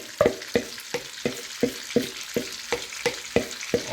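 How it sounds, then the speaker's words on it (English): Shrimp tossed into a hot pan of garlic butter sizzles steadily, with a rhythmic scrape or stir repeating roughly every third of a second, close and fairly loud, no voices. "Let's pour in the shrimp."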